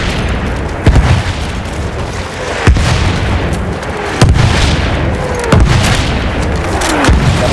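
An enemy artillery barrage pounds in Battlefield 1 Rush multiplayer, with five or six heavy booms landing about every second and a half, each a sharp, loud blast that trails into a rumbling decay over constant battlefield noise.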